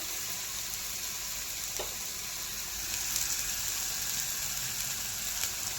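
Ginger garlic paste fries in a pan with a steady, close hiss and sizzle that stays even throughout, broken only by a faint stir or tap.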